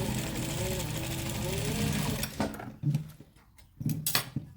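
A sewing machine stitches a pencil pleat curtain hem, a steady mechanical run for about two seconds that then breaks into short bursts, with a person talking throughout.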